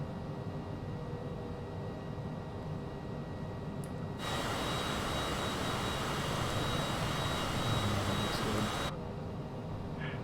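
Twin jet engines of a Cessna Citation CJ4 in a flight simulator roar as a broad steady rush that swells in the middle during the takeoff roll, then drops back to a quieter hum.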